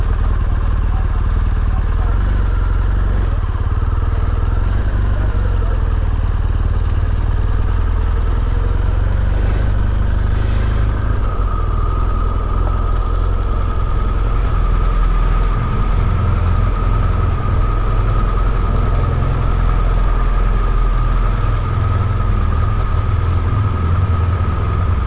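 Motorcycle engine droning steadily while riding on the road between Novi Sad and Belgrade, Serbia, a constant loud low rumble with wind roar and a sustained whine throughout, no talk.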